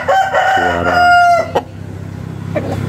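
A young Bangkok gamecock, grey-black with a still-developing neck, crows one long, loud, clear call that dips and trails off, with a short second rooster call faintly after it.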